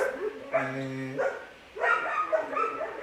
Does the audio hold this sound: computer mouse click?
no